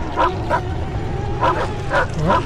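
Dogs in the video game The Thing bark and yip in short repeated bursts with whimpering between, fairly close over a steady low in-game rumble, with no talking.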